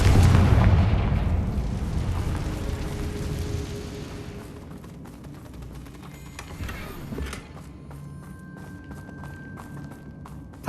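A Confringo fire spell explodes in Hogwarts Legacy, a loud booming blast at the start that rolls off into a long fading rumble with scattered crackling debris.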